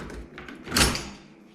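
An old door handle being pulled off a door, giving a short handling clatter and a louder clunk near the middle that trails away, close by with no talk.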